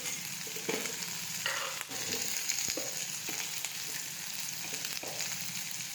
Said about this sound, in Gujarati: હવે આપણે તળવા દઈશું.